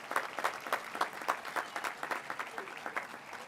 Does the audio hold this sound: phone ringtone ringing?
no